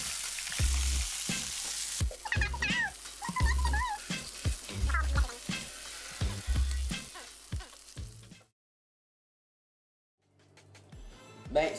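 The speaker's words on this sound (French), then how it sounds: "nous allons juste mettre les boulettes dans une poêle avec de l'huile bouillante" Meatballs go into a pan of boiling oil with a bright, crackling sizzle and bursts of spatter and clatter, heard up close for several seconds before the sound cuts off abruptly to silence.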